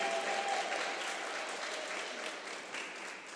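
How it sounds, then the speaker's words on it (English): A school musical audience claps in a steady, dense round of applause that fades slightly toward the end, with no voices over it. "let's give the MAD department a big round of applause."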